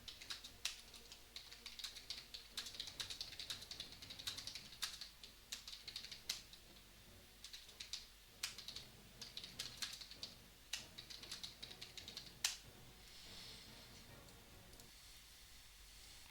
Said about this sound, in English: I will type in chat.